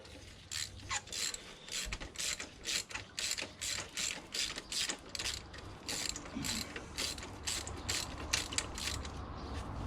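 A hand ratchet tightening a spark plug on a 2011 SEAT Ibiza, a close run of rapid, evenly spaced clicking pawl strokes in repeated bursts, with no talking.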